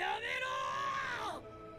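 A zombie in a Bleach anime episode lets out a drawn-out, wavering scream that rises and then bends downward before cutting off after more than a second.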